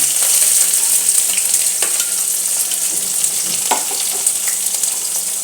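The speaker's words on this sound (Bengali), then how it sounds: "এখন বন্ধুরা রসুনটা ভাজা হয়ে গেছে এবার আমি এতে পেঁয়াজ কটা দিয়ে দিলাম" Chopped onions frying in oil with garlic for an egg tarka, a loud, even, close sizzle with light stirring scrapes and taps, and no talking.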